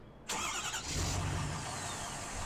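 A truck engine in Farming Simulator 15 cranks to life and settles into a steady, moderately loud idle.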